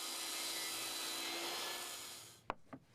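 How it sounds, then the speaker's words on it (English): A PVC trim board is ripped to width with a saw, giving a steady, loud, even cutting roar for over two seconds. It then stops abruptly, followed by a couple of brief knocks as the board is handled. "Since the trim boards need to be the same width as the joist, I rip them to the correct size."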